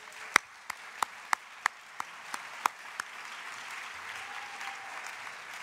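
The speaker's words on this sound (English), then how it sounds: "Please give Raymond James a big round of applause" An award-ceremony audience claps for a corporate honoree, a steady wash of applause with a few sharp nearby claps standing out in the first three seconds before the sound settles into an even patter.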